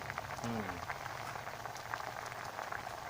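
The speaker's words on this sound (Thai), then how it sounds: "นี่เดือดแล้วนะครับเดือดแล้ว" Sour curry with pickled bamboo shoots and chopped bighead carp bubbling at a steady boil in a small pot, a dense continuous close simmer with a voice briefly present.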